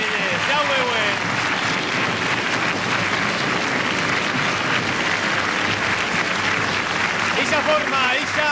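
Audience applauding the carnival queens on a stage runway at the Vinaròs carnival, loud continuous clapping sustained throughout, with an announcer's voice running over it.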